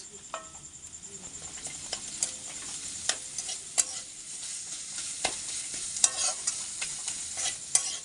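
Ground spices such as chili powder and turmeric fry with fish in a pan, giving a soft continuous sizzle. Scraping stirs and small sharp ticks from the utensil punctuate it close up.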